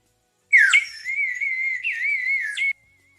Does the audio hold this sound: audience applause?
no